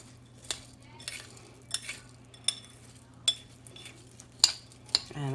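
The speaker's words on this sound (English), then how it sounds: "I just kind of keep stirring until it's all melted" Spoon stirring melting chocolate in a pot, a series of sharp metallic scrapes and clinks against the pot at an irregular rhythm over a quiet background hum.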